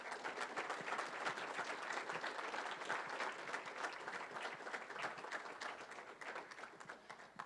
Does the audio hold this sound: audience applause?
yes